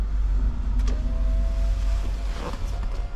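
An electric driver's seat motor in a Range Rover L322 whirs steadily as the seat travels back, a continuous low hum with faint mechanical clicks near the end.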